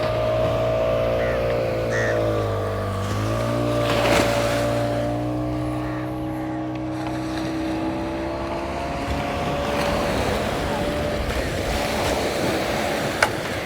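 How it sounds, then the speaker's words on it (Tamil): Fishing boat outboard motor droning loudly and close as the boat turns near a coastal fishing village, pitch dipping and rising with throttle, over waves and wind, with voices talking underneath. "இப்போ இந்த போட் வந்து நிற்கிது. அடுத்த போட் வந்து பாருங்கள் ஏற்றி கொண்டிருக்கணும். திரும்புது போட்."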